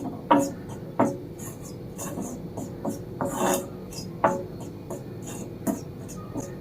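Amla (gooseberry) powder being lightly dry-roasted in a pan, heard as a steady, close scraping and rasping of a spatula stirring the dry powder, with sharper strokes repeating every second or so.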